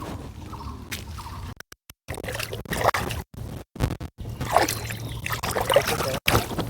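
Water runs steadily over food being washed in a kitchen, a close, continuous splashing rush interrupted by several brief silent breaks.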